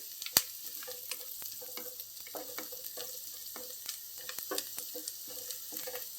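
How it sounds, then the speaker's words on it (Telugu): Onions and vegetable pieces sizzle and fry in a pan for a mixed vegetable curry, with steady crackling broken by repeated scraping stir strokes and one sharp clack near the start. "ఈ ఉల్లిపాయలు వేగిన తర్వాత మిగతా ముక్కలు కూడా వేసేసుకుందామండి"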